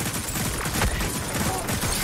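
Rapid gunfire crackles in a Destiny Iron Banner match as a Golden Gun is fired, dense and loud over two seconds with overlapping shots and game noise.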